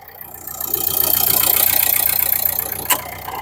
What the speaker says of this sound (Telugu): ఇంజన్ సౌండ్ వినండి. మీకు అసలు చాలా అంటే చాలా స్మూత్ ఉంది సార్.